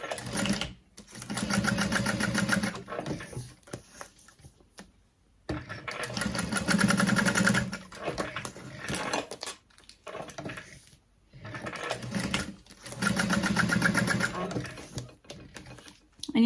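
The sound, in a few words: sewing machine stitching, with back stitching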